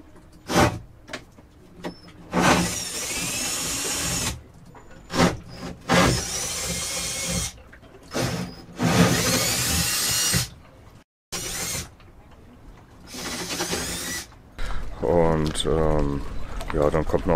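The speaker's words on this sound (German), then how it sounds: "Löcher in Schiffe bohren." A power drill whines in several bursts while drilling holes in a Comfortina 32 sailboat hull for a Windpilot Pacific wind vane, each burst lasting a second or two with short gaps between, close and loud; a person talks near the end.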